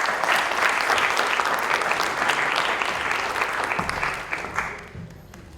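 Sustained, dense applause from a theatre audience at an open-stage poetry event at Prithvi Theatre, Juhu, welcoming a poet onto the stage; steady and loud for about five seconds, then thinning out toward the end.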